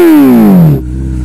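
A motorcycle engine revving loudly and close, a strong tone sliding down in pitch before cutting to a lower steady idle hum under a second in.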